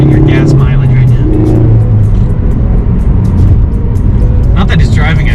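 A Ford Focus ST accelerating hard, engine rumbling loud and steady throughout with a rising rev, heard from inside the car, with a voice briefly audible over it.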